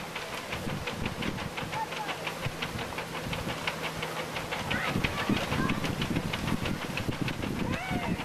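A Lynx vertical-axis wind turbine spins fast and shakes on a deck, giving a loud, continuous rapid whooshing thump with rattling vibration, while someone talks over it.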